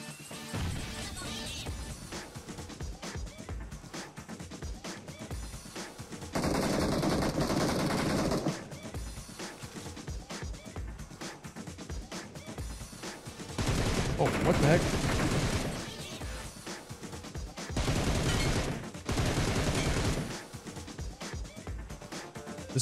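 Automatic rifle fire from an M762 in PUBG Mobile, several loud sustained bursts breaking through dense game music and effects, with a short pause between the longer volleys near the end.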